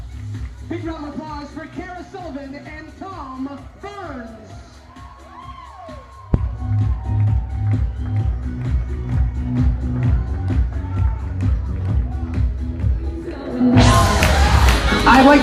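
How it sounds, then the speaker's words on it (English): Wedding guests at a Sharon country club reception cheer and whoop as a couple is introduced, a loud burst of crowd noise erupting near the end after amplified announcer talk and background chatter. "Big round of applause for Kara Sullivan and Tom Burns."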